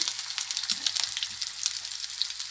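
Fish 65 frying in a little oil in a pan, a soft continuous sizzle with fine crackling pops, fairly quiet and steady throughout.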